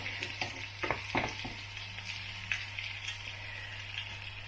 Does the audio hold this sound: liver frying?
yes